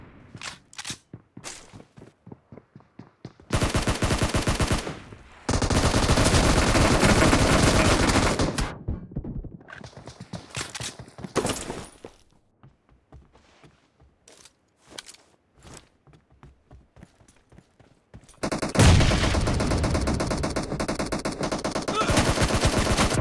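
Gunfire in the mobile shooter game PUBG New State: bursts of rapid automatic fire and scattered single shots, loud and close, separated by quiet stretches with soft footsteps and clicks.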